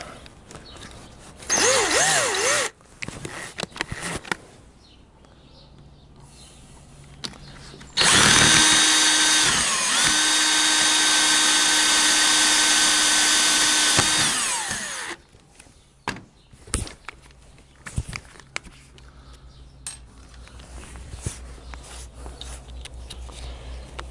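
Power drill boring a hole for an early-type transmission seal, two bursts of whining motor, a short one then a sustained high-pitched run of several seconds, with scattered clanks and handling noises between.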